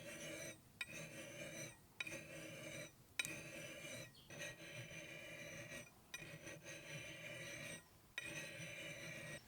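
A fine 15 cm steel file rasps along the edge of a steel axe in steady, even strokes with brief pauses between passes, close and continuous with no talking.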